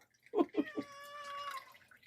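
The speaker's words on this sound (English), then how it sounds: "And we'll give it to that noisy kitty." A cat meows several times, three short calls followed by a longer, drawn-out wavering meow, close and fairly loud.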